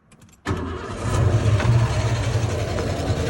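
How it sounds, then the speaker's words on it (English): A 1990 Ford F-150 XLT Lariat with a 5.0 V8 that may have a lifter fault cranks briefly and catches, then settles into a loud, close, rumbling idle with a rough low-end throb. "I'm gonna turn it on, and then you tell me if you know."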